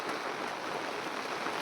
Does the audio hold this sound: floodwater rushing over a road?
yes